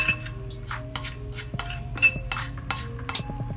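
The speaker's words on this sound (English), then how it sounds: "mix the baking soda with the coconut oil" A spoon stirs baking soda into coconut oil in a dish, giving light repeated clinks and scrapes of metal on the container, close and fairly quiet, with a faint steady hum behind.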